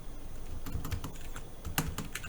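Typing on a computer keyboard while entering a problem title into a task-manager program, with scattered clicky keystrokes in short irregular bursts, close and fairly quiet, with no talking.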